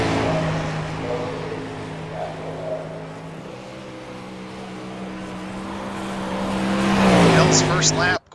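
A race car circles a dirt track at Eldorado, its engine droning steadily at a distance and then swelling louder as it draws closer near the end, under commentary from an announcer.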